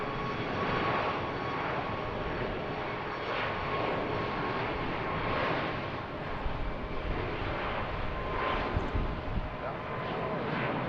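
An airliner taking off at BWI airport, a steady broad engine roar holding at moderate loudness throughout, without a clear rise or fade.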